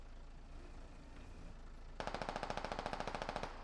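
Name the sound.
machine gun fire in a video game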